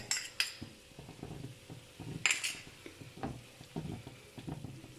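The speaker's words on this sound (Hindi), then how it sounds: "अब इसको मिक्स करते हैं अच्छी तरह से सारे कीमे के साथ।" A spoon scrapes and clinks through chicken mince and pizza sauce in a pan over a quiet sizzle, with irregular taps against the metal.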